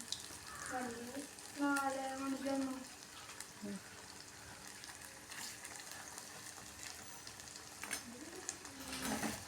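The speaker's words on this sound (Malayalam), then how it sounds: "ഇനി ഇത് രണ്ട് ഭാഗം മറിച്ചിട്ട് കൊടുത്തിട്ട് നമുക്ക് വറുത്തെടുക്കാം" Sliced potato and egg frying in a pan, a soft sizzle running throughout at low level with light scrapes as pieces are turned, while a voice speaks quietly over parts of it.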